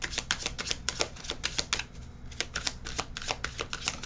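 Tarot cards being shuffled during a reading, a continuous rapid riffling and flicking that is close and steady, with a brief softer lull midway before the crisp shuffling picks up again.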